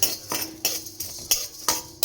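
A utensil scrapes and clinks against a pan while dry-roasting cumin, coriander, a cinnamon piece and black pepper, making about six sharp, evenly spaced strokes in a short burst. No one talks.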